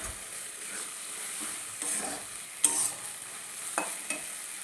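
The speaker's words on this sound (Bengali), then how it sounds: "কুচিয়ে রাখা ধনেপাতাটা দিয়ে দিলাম। এবার এটা একটু মিশিয়ে নিলাম।" Chopped coriander being stirred into a simmering lote fish curry, a soft steady sizzle under a few scattered spoon scrapes against the pan.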